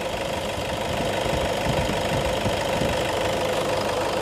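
A Toyota Innova 2KD diesel engine, freshly reassembled, runs steadily with a dense knocking clatter and rough vibration, loud and close with no talk.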